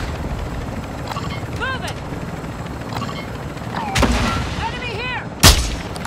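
Video game gunfire cracks out in a few sharp separate shots over a busy background of game effects, with one loud close blast near the end and people talking over it.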